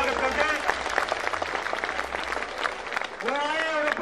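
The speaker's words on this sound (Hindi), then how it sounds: "ताली बजा के स्वागत करते हैं" Audience applause welcoming a farmer leader at a farmers' meeting in Hisar, steady dense clapping throughout with a voice speaking over it at the start and again near the end.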